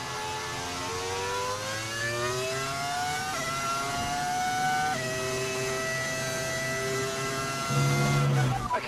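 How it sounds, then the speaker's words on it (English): F1 25 racing game car engine with a modded engine sound, loud steady engine whine rising through the gears with shifts, close and continuous, with a voice talking underneath. "Just an engine audio mod."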